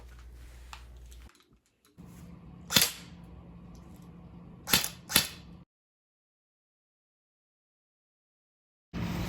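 An airsoft gun fires outdoors: three sharp cracks, one alone and then a quick pair, over faint outdoor background, followed by silence.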